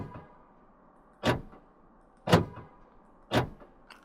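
A truck's door lock clunks three times at roughly one-second intervals, each a sharp close mechanical thump with a brief rattle, separated by near silence.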